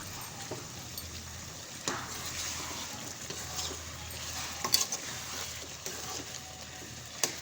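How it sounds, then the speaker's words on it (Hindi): Chicken karahi with garlic stir-fried in a pan: a steady, moderate sizzle with occasional scraping and clinking of a utensil against the pan, no voices. "अभी इसकी दोबारा से बुनाई शुरू करती हूँ"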